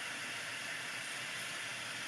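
A heat tool blows hot air to set embossing powder on a paper craft card, giving a steady, close, airy hiss that holds evenly throughout with no talking.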